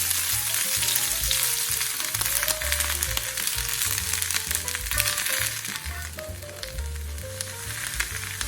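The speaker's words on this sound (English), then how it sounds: "Add the cut cabbage" Cut cabbage fries in two teaspoons of vegetable oil in a well-heated pan over medium heat, a loud steady sizzle with occasional stirring crackles and scrapes throughout.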